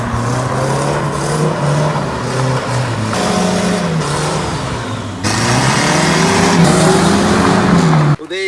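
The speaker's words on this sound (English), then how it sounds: "That's the first drive of the Datsun Ute in 20 years." A Datsun ute being driven, its engine droning and rising through the revs as it accelerates, with a gear change midway and the pitch climbing again, loud and close throughout with no one talking.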